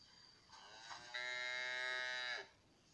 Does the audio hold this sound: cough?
no